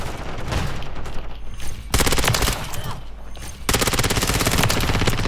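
Loud, close ISO 9mm submachine gun fire in Modern Warfare 3, coming as sustained rapid bursts with a short break in between, the second burst running to the end.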